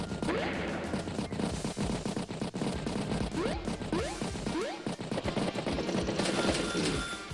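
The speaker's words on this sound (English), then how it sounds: "Battlecopter engage battlecopter." Rapid battlecopter machine-gun fire from the Advance Wars by Web strategy game, dense rattling bursts with sharp impacts and swooping effects running continuously throughout.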